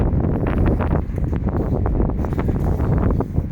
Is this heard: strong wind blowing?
yes